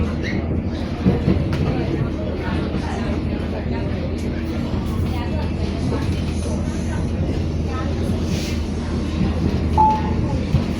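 A DEMU diesel-electric train running, a steady low rumble of the carriage with faint rail clatter heard from inside, continuous throughout with a voice speaking over it.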